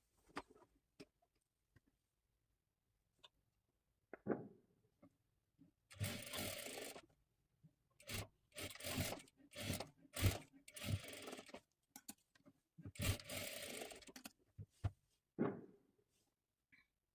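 A sewing machine double-stitches the shoulder seams of a blouse in short separate bursts of rapid whirring, close and fairly quiet, with silent gaps and a few faint clicks between runs.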